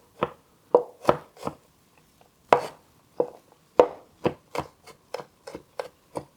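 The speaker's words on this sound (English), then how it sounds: "So let's go and also just slice our garlic." A knife chops and smashes garlic on a cutting board: a run of about fifteen sharp, close knocks, uneven at first and then quickening into a brisk rhythm near the end, with no talking.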